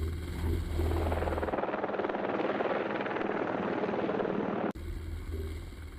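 Helicopter flying backwards across a gorge while towing a long cable, a loud steady rotor drone that fills the whole clip, briefly dipping near the end before resuming.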